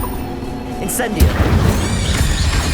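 Fiery spell burst in the Hogwarts Legacy video game, a loud booming whoosh with a sharp bright crack partway through, followed by a rolling roar that carries on under busy game noise.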